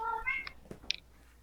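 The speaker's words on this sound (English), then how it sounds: "the cat's upset" An upset cat gives a short, wavering meow, followed by a brief squeaky call, heard faintly against quiet background noise.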